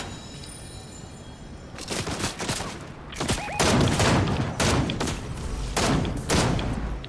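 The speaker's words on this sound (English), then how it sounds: "he's shooting at me" Gunfire in the video game Fortnite: bursts of rapid shots in clustered volleys, loud and close, sounding mostly on their own over a quiet game background.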